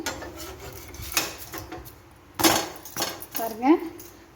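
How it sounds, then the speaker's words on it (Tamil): A vallarai keerai dosa is flipped on a hot pan, giving a few clinks and scrapes of a spatula against the metal. A brief sizzle follows, heard close up with no talking. "இப்போ தோசை பரட்டி போடலாம் வெந்திருக்கும்"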